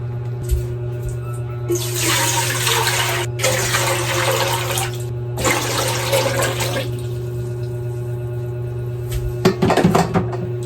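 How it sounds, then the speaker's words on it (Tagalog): Water runs from a tap into a pot in three bursts of splashing with short pauses between, over a steady low hum, followed by a few clunks of metal. "maglalagay naman ako ng tubig"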